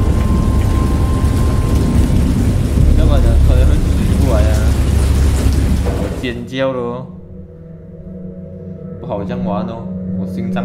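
Heavy rain pours with deep thunder rumbling for several seconds in a Cthulhu horror video game, then the storm drops away and a voice speaks over a quieter background.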